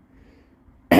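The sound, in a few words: cough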